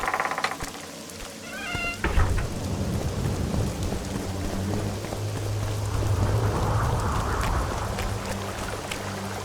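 Steady rain with rumbling thunder in The Witcher 2: Assassins of Kings, a continuous wash of downpour with a deep roll of thunder building from about two seconds in, heard alone without talk.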